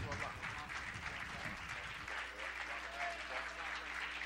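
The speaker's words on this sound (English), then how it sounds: "let's receive Brother Minister Nuri Muhammad with a warm round of applause" An audience greets a minister taking the stage with a warm round of applause, dense clapping at a steady level throughout, with some voices mixed in beneath it.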